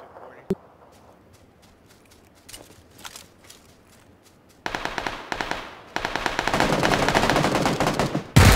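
Video game gunfire with heavy recoil: scattered single shots and footsteps give way to loud, sustained automatic bursts, with brief voices in the mix.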